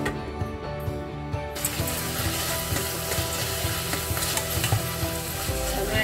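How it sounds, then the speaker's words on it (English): Chopped tomato stirred into potatoes and fenugreek frying in a pan, with a steady sizzle that rises as the tomato goes in and continuous scraping and clinking from the stirring spoon. "Now add chopped tomato. Mix and cook another 2 more minutes."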